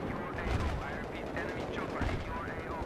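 Automatic fire from an engineer weapon in the video game Battlefield 3 rattles in quick repeated bursts, fairly faint and mixed with other battle noise.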